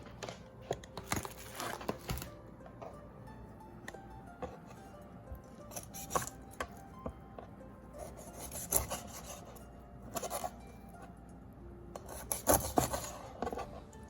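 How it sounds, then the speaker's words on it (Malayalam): A knife cuts through raw chicken wings to split them into two pieces, with close, quiet scraping and crunching cuts as sharp irregular bursts over a low background. "അതിൻ്റെ ഈ ഈ പോർഷൻ റിമൂവ് ചെയ്യും എന്നിട്ട് ഇത് രണ്ട് പീസസ് ആക്കി എടുക്കും"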